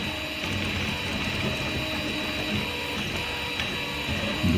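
A Discovery 200 3D printer prints a small statue without supports in Poliwood filament, giving a steady mechanical whir with faint stepper motor tones and small ticks, close and continuous.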